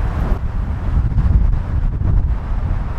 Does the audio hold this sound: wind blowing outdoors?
yes